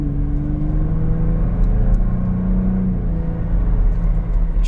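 2023 Ford Bronco Raptor cruising in sport mode, a steady close engine drone from inside the cabin with smooth gear shifts, rising pitch briefly sweeping down, no talking.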